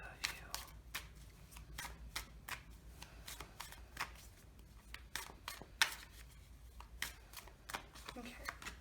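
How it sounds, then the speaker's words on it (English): Oracle cards shuffled by hand in a quiet room, a run of crisp, repeated riffling bursts at an uneven rhythm, close and fairly soft, with no talking. "it's nice shuffling those cards."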